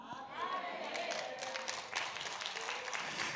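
Church congregation applauding, with a faint scattered patter of clapping sitting low beneath a speaker's ongoing voice.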